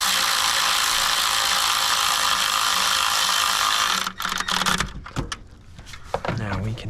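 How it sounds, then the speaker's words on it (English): Ratchet clicking as valve cover bolts are tightened on a Nissan 4.0 V6 engine, probably in a Pathfinder, Xterra or Frontier, with a steady broadband noise first, then sharp close clicks and clatter near the end. "Tighten those bolts up."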